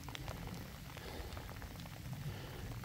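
Steady rain falls outdoors during irrigation work, a continuous dense patter of drops hitting surfaces nearby, with no talking.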